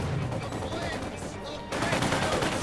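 Rapid, continuous bursts of MG42 machine gun fire crackle through a Company of Heroes 2 battle, loud and dense, with a commentator's voice running underneath and a fresh burst kicking in harder near the end.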